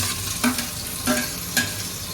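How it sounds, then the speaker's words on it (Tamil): Cut tomatoes sautéing in a pan for a dried-fish curry, a steady low sizzle broken by three short scraping stirs of a spoon, close and fairly loud, with no voices. "தக்காளியும் சேர்த்து நல்லா வதக்கலாங்க"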